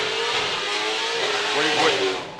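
Formula Drift car at a 2019 drift qualifying event, its engine wailing at high revs with rising and falling pitch as it transitions through the course, loud and steady under crowd noise and commentary.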